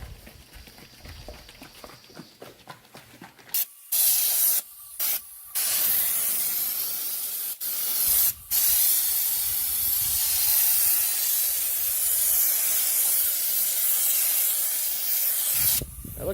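Raptor bedliner sprayed onto a 1988–98 GMC/Chevy C/K 1500 stepside truck box, loud continuous close hissing bursts starting and stopping, after a few quieter moments at the start.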